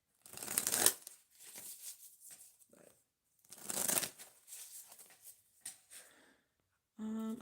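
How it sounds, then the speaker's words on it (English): Glossy cards being shuffled by hand in several close bursts, each a crisp riffling flutter separated by brief pauses. "this shuffling is driving me crazy"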